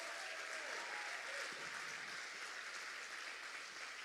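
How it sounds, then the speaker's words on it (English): Applause from an audience at a business challenge award event, steady and dense clapping filling the whole stretch at moderate distance, with no voices standing out. "Give them all a round of applause,"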